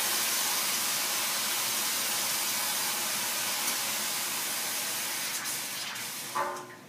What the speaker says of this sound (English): I'm going to let that reduce for just a second.